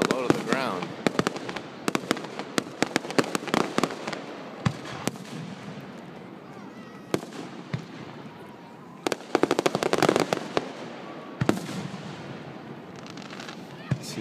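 Fireworks firing low to the ground, a rapid irregular series of crackling pops and sharp bangs, fairly distant and quiet, with a dense flurry near the ten-second mark and people talking in between.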